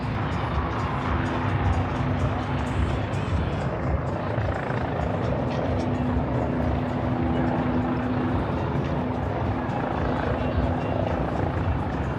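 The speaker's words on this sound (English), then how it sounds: "The little boats running around" Steady engine drone of small motorboats on the Chicago River during St. Patrick's Day river dyeing, a continuous low hum with a constant tone running throughout, fairly close and unbroken.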